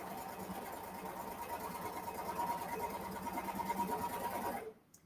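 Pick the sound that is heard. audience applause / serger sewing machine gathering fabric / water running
serger sewing machine gathering fabric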